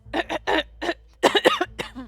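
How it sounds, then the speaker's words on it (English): Someone clears their throat in a series of harsh, close bursts, a few short rasps then a longer rougher cluster, with brief pauses between. "Sorry, I had to clear my throat real bad."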